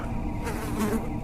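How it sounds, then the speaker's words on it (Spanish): Flies buzz in a steady, close droning hum that wavers slightly in pitch, continuous and alone without voices. "El zumbido no paró, solo cambió de tono, como si de pronto las moscas hubieran entendido la pregunta."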